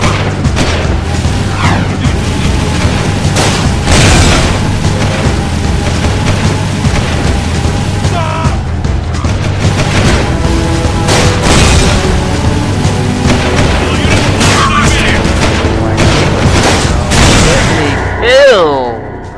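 Gunfire and booming explosions during a police-style car pursuit in a PS2 video game, dense and loud throughout over a low engine drone, with bursts of shots and voices calling out amid the chaos.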